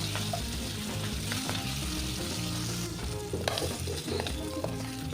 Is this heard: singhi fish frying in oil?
yes